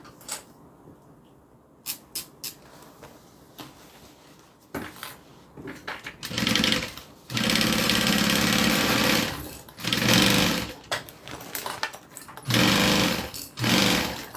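Sewing machine stitching up a bag lining in bursts, with several loud sustained runs of rapid motor whir separated by short pauses, after quieter handling clicks and taps at the start.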